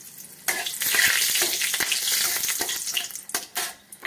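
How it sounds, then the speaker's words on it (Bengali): Two dried red chillies dropped into hot oil in a kadai, giving a close, loud, continuous sizzle with stirring scrapes and crackles, tapering into choppier bursts toward the end. "দিয়ে দেব শুকনো লঙ্কা 2টো"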